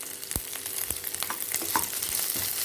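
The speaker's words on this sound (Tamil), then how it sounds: "இது மொத்தமாக சேர்த்து போட்டு வதங்கினாலும் எல்லாத்தோடையும் மிக்ஸ் ஆகி வதங்கிடும்." Chopped pirandai (adamant creeper) sautéing with urad dal and onion in a pan for chutney, giving a steady frying sizzle punctuated by scraping stirs and spatula knocks, close and moderately loud with no talking.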